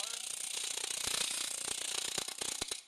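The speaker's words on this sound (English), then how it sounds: "just going to press lightly, never press too hard" A grinder is held lightly against a surface, producing a harsh, continuous rattling buzz with rapid clattering pulses that cuts out at the end.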